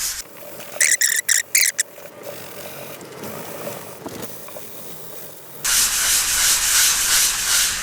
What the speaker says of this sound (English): All you gotta do is just lightly sand it.